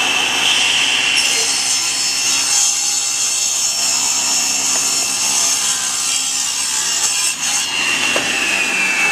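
A saw rips steadily through a wooden board, cutting it to two inches for a storage chest with a push stick guiding the piece. The loud, continuous grinding hum runs alone without talk.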